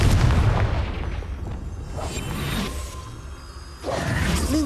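Confringo fire-blast spell from the Hogwarts Legacy video game, a booming, whooshing burst with rumbling low end that swells, dips and flares again across the few seconds, loud and with no talk over it.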